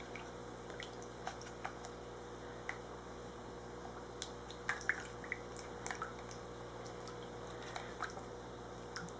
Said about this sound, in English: We are going to stir this up.